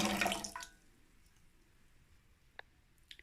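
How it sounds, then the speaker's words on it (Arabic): Water is poured onto homemade orange peel cleaner mixture in a short splashing burst at the start, then it fades to quiet with a few faint drips and clicks. "هنضيف عليه شويه كده من الميه بالشكل ده كده اهو"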